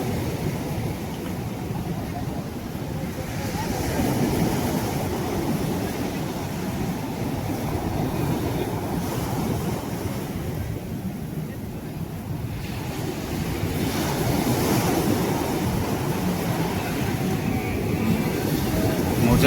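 Sea waves wash and surge steadily around a fishing boat heading out to sea to catch fish, under continuous loud wind buffeting the microphone, swelling stronger toward the end.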